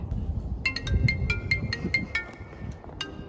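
A phone ringtone plays a quick series of bright electronic beeps, about ten tones in a rising-and-falling pattern, over a murmuring room background with some low voice sounds.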